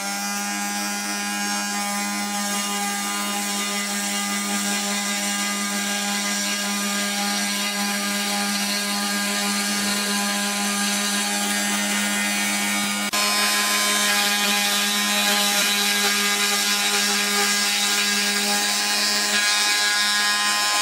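A small milling machine takes a 0.5 mm cut off a workpiece, giving a continuous, loud, close motor whine with a high cutting hiss that grows slightly louder partway through.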